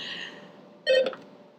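Telephone call tones on a call-in podcast, a short, bright burst of layered electronic beeps that sounds once over a faint, quiet line.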